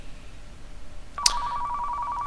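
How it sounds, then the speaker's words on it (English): A telephone rings in the video game Car Mechanic Simulator 2015, a sudden electronic tone starting partway through and holding steady to the end over a quiet background. "Oh, there's the phone."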